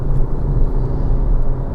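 Ford Focus RS engine giving a loud, steady low rumble from inside the moving car, continuous throughout with no voices.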